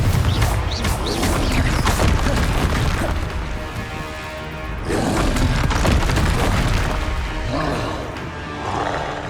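Confringo fire spells explode repeatedly in a Hogwarts Legacy duel, heavy booms and crashing bursts layered over loud, dense combat noise.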